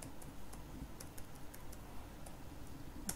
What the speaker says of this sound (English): So now go to your web browser and type your localhost IP.